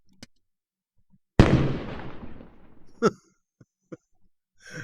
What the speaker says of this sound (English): Let's put our diode in right there and wait for the explosion.